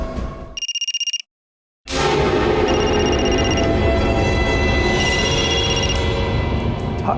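Telephone ringing in a true-crime drama about a Maharashtra murder case: a short electronic ring burst, then a brief silence, then loud continuous noise with repeated tonal ring bursts over it.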